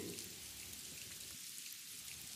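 Steady rain falling at night during a storm, a faint, even wash of drops on surfaces with no other sounds.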